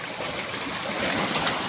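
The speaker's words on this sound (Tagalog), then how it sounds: "Grabe yung alon dito sa amin." Strong waves churned up by Typhoon Inday, a continuous loud rushing wash of water with surges building toward the end, heard alone without talk.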